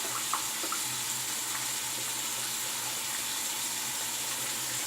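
Dorco Pace 6 razor cartridge rinsed under a running tap, a steady, even hiss of flowing water into a sink with faint splashes, no voices.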